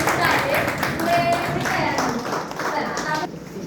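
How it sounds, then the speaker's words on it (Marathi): Loud clapping from a group at a district-level values-education training session in Pandharpur, a steady dense patter that fills the moment, with voices mixed in. "या सगळ्यासाठी खूप जोरात टाळ्या व्हायला पाहिजे"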